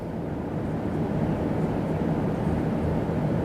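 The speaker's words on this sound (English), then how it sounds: "This is what it sounds like on an airplane." A steady, low droning rumble fills the space continuously, like engine noise heard from inside an airplane cabin, with no voices.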